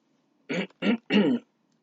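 Three short, close coughs in quick succession, the last slightly longer, with quiet before and after.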